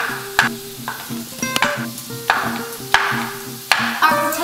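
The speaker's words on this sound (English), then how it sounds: "Our potatoes are still cooking." Potatoes sizzle in a pan with repeated sharp clanks of a utensil stirring and scraping every second or so, close and loud, with no talk.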